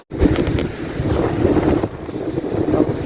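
Rambilli beach on the seaside, heavy wind buffeting the microphone in a loud, continuous roar with surf-like rushing beneath, starting abruptly after a brief moment of near silence.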